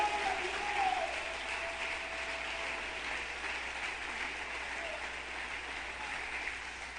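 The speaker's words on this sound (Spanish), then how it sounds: "Alguien que lo aplauda en esta noche." Church congregation applauding steadily throughout, a dense, even wash of clapping from a crowd, with a faint voice briefly audible near the start.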